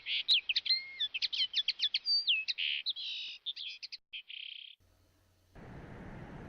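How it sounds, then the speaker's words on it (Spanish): A linnet sings at a window: a rapid run of bright whistled chirps and trills, clear and close, then it stops, leaving near silence and a faint rustle. "era un pardillo que cantaba ante su ventana"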